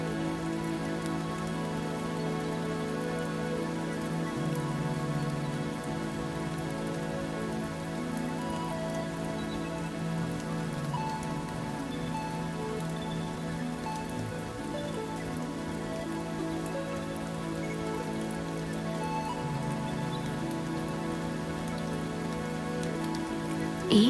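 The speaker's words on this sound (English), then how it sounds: "listening to the mesmerizing" Steady, dense rain pours onto a surface, a continuous even patter close by with no voices, holding a constant level throughout.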